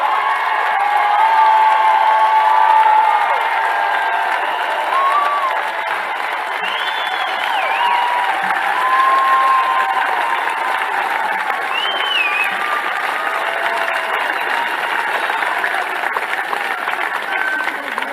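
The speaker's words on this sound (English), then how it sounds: "I'd like to give every one of those who serve and protect us a round of applause." Large outdoor campaign rally crowd in Latrobe, Pennsylvania, applauding and cheering for first responders, a loud sustained roar of clapping with whoops and shouts rising through it for the whole stretch.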